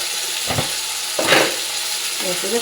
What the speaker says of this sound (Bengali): টমেটোটা একটু ভাজা ভাজা হয়ে গেছে